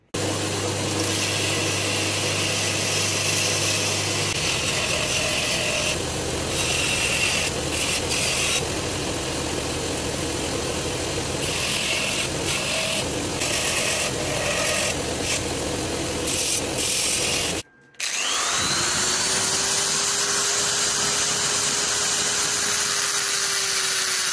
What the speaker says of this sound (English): I'll probably use my die grinder and some files just to put a little choil in here